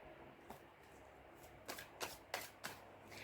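A tarot card drawn from the deck, heard as a few soft, quick card snaps and shuffling flicks, faint and close in a quiet room.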